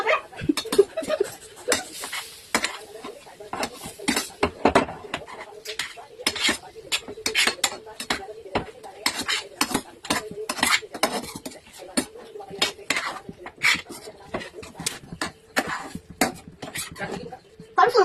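A spoon scrapes and clinks against a pot while vegetable curry with soya chunks is stirred, an irregular, busy clatter of metal on metal that runs throughout, with a voice and light background sounds now and then.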